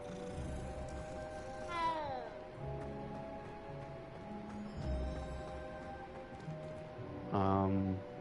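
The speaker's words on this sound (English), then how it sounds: "that's a cat." A cat in the video game Hogwarts Legacy gives two or three rising and falling meows spaced a few seconds apart, set against a steady in-game ambient hum and background music.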